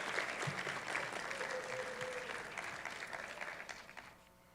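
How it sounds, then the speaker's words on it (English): A graduation audience applauds in a dense, steady wash of clapping that holds for several seconds before thinning out and fading near the end. "please, as well, give yourselves a round of applause"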